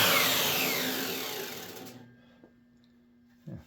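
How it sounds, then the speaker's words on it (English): Miter saw making a trim cut in a board on a workbench: a loud whining spin-down fading over about two seconds, then near silence with a couple of light knocks. "I'm just gonna use my miter saw here to do some cheat cuts and make these even."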